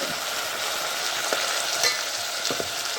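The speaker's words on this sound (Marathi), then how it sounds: "पावटे छान तेलात भाजून घ्यायचं आहे तर मध्ये मध्ये हलवत राहायचं" Pavta beans roasting in oil in a pan for a Maharashtrian pavta amti, an even close sizzle with a couple of light scrapes as they are stirred, no voices.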